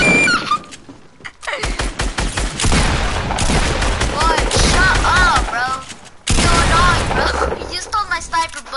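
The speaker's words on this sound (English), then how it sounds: "Lot of sniper bullets." Sniper rifle shots and other gunfire crack in quick, loud bursts during a building-style shooter match, with excited voices talking and shouting over them and a brief lull near the middle.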